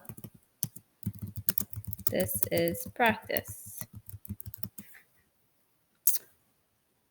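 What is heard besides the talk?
typing on computer keyboard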